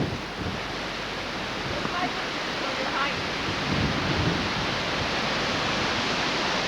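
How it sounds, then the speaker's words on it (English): Strong wind blows on a hilltop beside a fire tower, a loud steady roar with rumbling buffeting against the microphone throughout. "It's pretty windy up here today."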